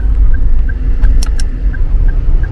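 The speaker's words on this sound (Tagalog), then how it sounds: "Ang daming sasakyan." Heavy road traffic heard from inside a car, a loud steady low engine and tyre rumble with a few faint beeps and a brief high chirp, no talking.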